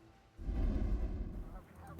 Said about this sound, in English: Beauty shot of the many geese still on the river in Saskatoon.